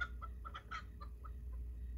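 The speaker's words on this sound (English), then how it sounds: "As a matter of fact, there was a chicken on the bus." A chicken clucking on a bus, a series of short clucks in a quick uneven rhythm over a steady low engine rumble, moderately close and without talk.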